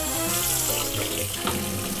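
Water gushes from a kitchen tap with a steady, loud, close rush, filling up while a cheese-crusted cast iron skillet waits to be cleaned; no voices.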